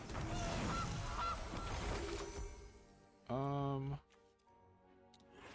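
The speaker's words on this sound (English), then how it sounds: "Replay the goose." A goose honk sound effect in the video game MTG Arena sounds once, loud and nasal for under a second, after a stretch of game noise and clatter, then fades to quiet.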